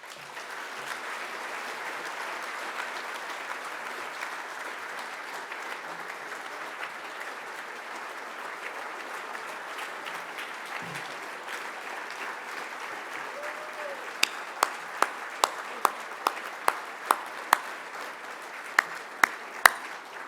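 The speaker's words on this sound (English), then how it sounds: "may I ask for one more round of applause for our two remarkable honorees tonight" Sustained audience applause at a formal award dinner, a steady wash of many hands clapping for most of the length, with a few louder individual claps standing out near the end.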